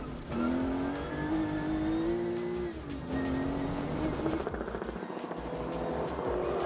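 A Porsche 911 rally car launches from the start of a timed stage on the East African Safari Classic Rally, its engine loud and close, revving hard with rising pitch through gear changes, no voices.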